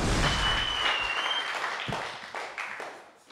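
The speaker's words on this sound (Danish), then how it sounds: "Klapp godt for Ahmed Mamman!" A stand-up comedy audience in Oslo applauds as comedian Ahmed Mamman takes the stage, a burst of clapping that slowly thins out over a few seconds, with a brief whistle near the start.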